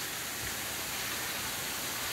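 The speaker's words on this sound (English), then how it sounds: "Here we go, under the waterfall." Water pouring from a waterfall at a rock shelter, heard from close behind or beneath the fall as a steady, dense broadband roar with no breaks and no voices.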